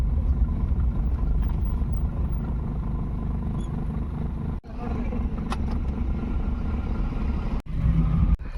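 Vehicles pass along a rough village road in rural Maharashtra, a steady loud engine rumble filling the stretch with brief dropouts, no talk over it.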